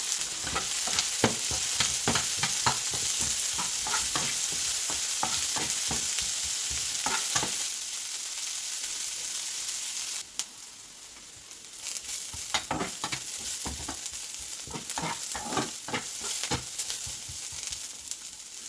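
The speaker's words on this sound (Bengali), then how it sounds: "আমি ফ্রাই প্যানে এখন পেঁয়াজ আর রসুন দিয়ে দিচ্ছি" Onion and garlic fry in hot oil in a frying pan, a dense continuous sizzle broken by repeated scraping stirs of a spatula, briefly quieter midway before the stirring resumes.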